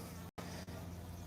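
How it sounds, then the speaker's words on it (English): Honey bees drone steadily beside an open beehive during frame work, a dense continuous buzz filling the sound with one brief dropout and no speech over it. "They are very good bees, and they're so gentle."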